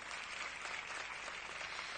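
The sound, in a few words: audience applause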